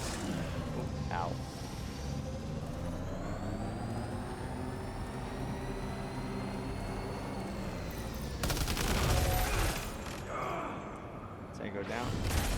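Gunfire rings out in Death Stranding 2 while a vehicle drives along, a steady engine drone underneath, with a louder burst of shots and rumble late on and a voice speaking over parts of it.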